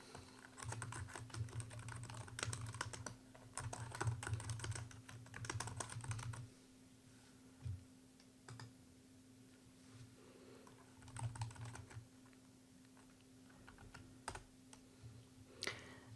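Bursts of keystrokes on a computer keyboard while appointment details are entered in Outlook for Dynamics 365 Sales, with steady rapid clatter in several runs separated by pauses and isolated taps, close and fairly quiet over a low steady hum.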